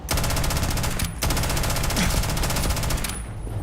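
Rapid automatic fire from the Fury gun in Starfield, a loud continuous stream of shots with a brief break near the one-second mark, then sustained firing that cuts off near the end.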